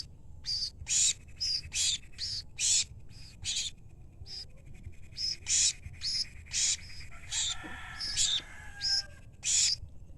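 Two pet birds that were raised from chicks give repeated, shrill, raspy calls in short bursts, fairly close, with brief pauses between them and a faint scratchy rustle partway through.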